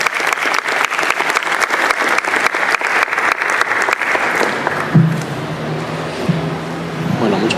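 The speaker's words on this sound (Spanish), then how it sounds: "Un fuerte aplauso para él." Warm applause for a guest speaker at a criminal law lecture, many hands clapping loudly and evenly for several seconds before fading out, followed by a voice starting to speak.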